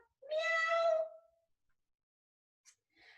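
A voice imitates a cat's meow during a kids' yoga class, one clear drawn-out meow close up, followed by silence and a couple of faint short sounds.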